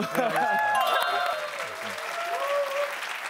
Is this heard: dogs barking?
no